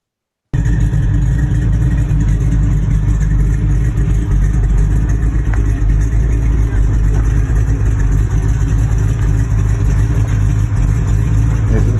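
A car with a small-block 340 V8 engine runs continuously at a steady, loud idle with a deep rumble, holding an even level throughout with no voices.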